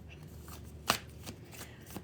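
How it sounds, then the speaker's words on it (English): Tarot cards being shuffled by hand, a soft papery riffle with one sharper slap near the middle and lighter flutters around it, close and fairly quiet. "I didn't even get the chance to shuffle all the way."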